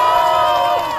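A crowd cheers loudly and steadily at an outdoor press conference held by Democratic Party leader Lee Jae-myung at Gijang market, the voices merging into a sustained, chant-like roar.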